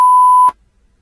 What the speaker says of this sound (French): une notification retentit et annonce